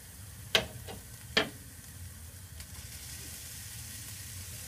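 Shrimp dropped into a hot pan of simmering sauce, two sharp splashy hisses in quick succession over a quiet background bubbling, then a soft steady simmer.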